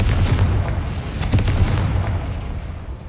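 A loud fiery blast from the Confringo spell in Hogwarts Legacy, a heavy rumbling explosion with a sharp burst at its peak that rolls on and slowly decays over about three seconds.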